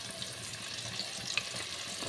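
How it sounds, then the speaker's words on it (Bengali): New potatoes frying in oil in a pan, a soft, steady sizzle heard close up, with no voices over it. "আলুগুলোকে ভাজা করছি"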